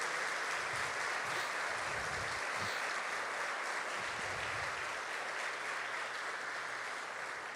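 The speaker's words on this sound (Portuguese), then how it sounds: "Aplauda Jesus então bem forte" A church congregation applauds loudly in a sustained, dense burst of clapping that runs unbroken throughout, with a few faint low thumps underneath and no speech.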